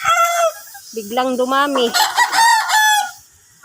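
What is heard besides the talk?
chickens and roosters crowing in their coops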